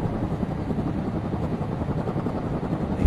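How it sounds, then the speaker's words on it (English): A helicopter flies close overhead in a wartime setting, with a loud, steady rotor roar and chop that stays constant throughout. No talking is heard over it. "The chopper's very close this time."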